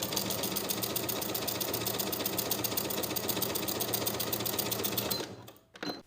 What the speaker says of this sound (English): we'll sew along that raw edge from one side to the other